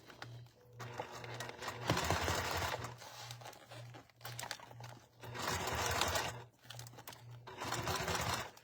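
A sewing machine top-stitches clear vinyl in repeated runs of rapid mechanical chatter, pausing between bursts, with faint handling rustles of the plastic in between.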